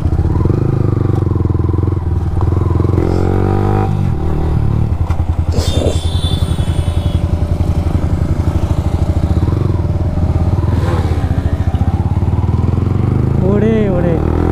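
A KTM Duke motorcycle idles and revs in a line-up of four bikes, its steady engine rumble loud and close throughout, with people talking over it.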